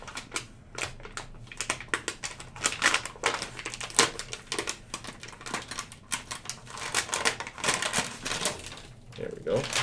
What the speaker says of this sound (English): you peel off the safety paper from the top